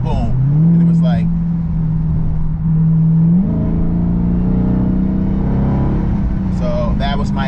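A 2020 Dodge Charger Daytona Hellcat Widebody accelerates hard in track mode, its loud engine drone climbing in pitch with a shift step partway through, heard from inside the car with talk over it.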